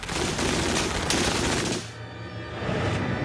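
An MG-42 machine gun fires in extremely rapid bursts, the shots blurring into a continuous tearing roar before a brief drop and a trailing rumble.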